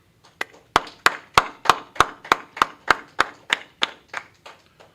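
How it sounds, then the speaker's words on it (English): A small group claps together at a religious law class, about a dozen sharp, evenly spaced claps in a steady rhythm that start, build and taper off, close and distinct with little else around them. "All right, clap it up."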